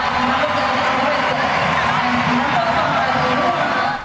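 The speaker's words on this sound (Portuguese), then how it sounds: "Diante de muitos aplausos, Marta deixou o campo pela última vez em um Mundial" Large stadium crowd in Melbourne applauding and cheering as Marta leaves the field for the last time at a Women's World Cup, a steady dense roar without breaks, loud and close.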